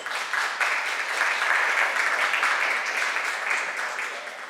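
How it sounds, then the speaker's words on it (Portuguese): Steady applause from an audience at an NGO meeting as a speaker is called up, a dense even clapping that holds for several seconds, with a faint voice underneath. "peço uma salva de palmas para ela"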